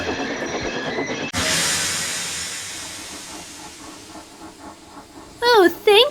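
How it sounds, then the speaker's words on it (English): Toy-style trains braking hard to a stop: a sudden loud burst of hissing steam and grinding that slowly fades, with faint rhythmic clatter, followed by a voice speaking near the end. "Henry, Percy, and Rebecca slammed on their brakes, and finally, the train stopped just in time."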